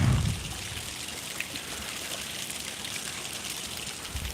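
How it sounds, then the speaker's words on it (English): Water trickles steadily in a fountain, a soft, even splashing that runs the whole time with no voices. "just one last look at this beautiful fountain"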